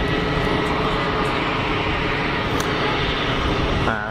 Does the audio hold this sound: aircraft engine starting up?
yes